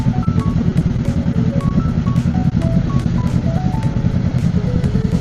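A Honda Rebel motorcycle with its stock exhaust runs with a steady, loud low rumble, continuous throughout, with faint high chirping tones scattered above the engine drone.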